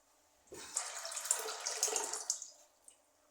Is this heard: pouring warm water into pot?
yes